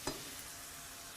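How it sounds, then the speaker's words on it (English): Soft, steady sizzling of vegetables including red bell peppers frying in a skillet after a brief stir or clatter at the start, quiet and close. "starting to sizzle there"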